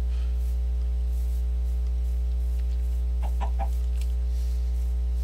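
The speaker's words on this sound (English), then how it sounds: "And a chicken." A Minecraft chicken gives a short burst of clucks around the middle, small and fairly faint against a constant low electrical hum, with no talking.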